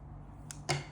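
Scissors cut crochet yarn from a textured tote bag in two quick, crisp snips, the second louder, against a quiet room.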